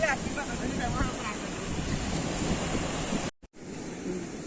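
Surf at the sea at Tondavali rushes in a steady broadband wash, heavy with wind buffeting the microphone, broken by a brief dropout near the end.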